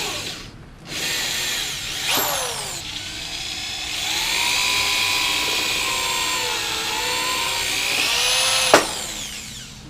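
A power drill whines steadily at close range, its pitch dipping under load as it bores through wood, starting and stopping a few times.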